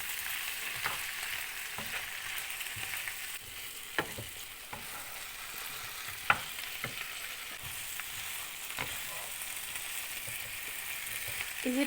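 Chicken pieces frying in a pan with a tablespoon of soy sauce, giving a steady, fairly quiet hiss broken by scattered scrapes and clicks as they are mixed.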